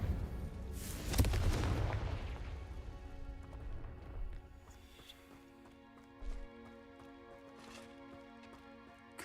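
A Confringo blasting spell explosion from a Harry Potter wizarding game, one heavy booming blast near the start that fades into a long rumbling tail, with a smaller thud later over faint background music.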